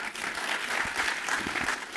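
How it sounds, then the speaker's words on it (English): Audience applause at an AI research conference session, a steady wash of many hands clapping in a large room, with a few louder individual claps standing out. "I love how people always clap at that"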